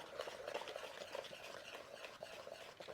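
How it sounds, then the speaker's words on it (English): A whisk stirs dry baking ingredients, flour and salt, in a bowl, giving a soft continuous scratchy swishing with light rhythmic taps; close but quiet, with no talking. "We can stir these up with the whisk"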